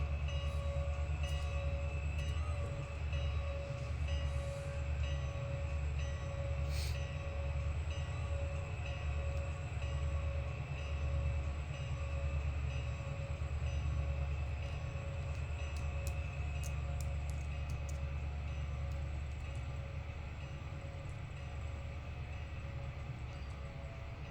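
Freight train with locomotives and hopper grain cars in the Trainz 2022 simulator, a steady low engine rumble with rolling rail noise and a few faint clicks, continuous throughout and easing slightly near the end.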